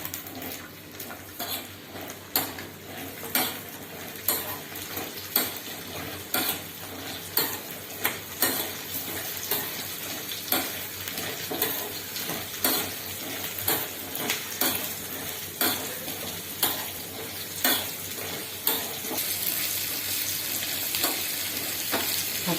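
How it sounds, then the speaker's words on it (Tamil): Leaves and shallots sauté in a pan on the stove for pumpkin leaf kuzhambu, a steady sizzle punctuated by repeated sharp scrapes and knocks of a spoon stirring against the pan, close and clear. "அடுப்பை பற்ற வச்சு இப்போ வதக்கலாம்"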